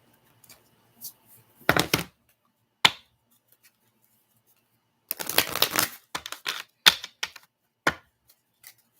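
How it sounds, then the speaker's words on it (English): Surrender oracle cards are shuffled for a reading, heard as close, crisp bursts of riffling and flicking: a short burst, a lone snap, then a longer flurry of card slaps and rustles with quiet gaps between. "I'm going to pull some surrender cards."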